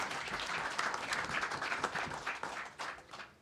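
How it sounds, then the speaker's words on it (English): Audience applause at a PFL 2019 championship press conference for mixed martial arts fighters, a steady, dense wash of clapping from a room of people, sustained throughout and thinning slightly toward the end. "So big round of applause for all the fighters."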